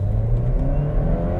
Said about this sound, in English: the first launch in normal drive mode, we're gonna hit the brakes, gas all the way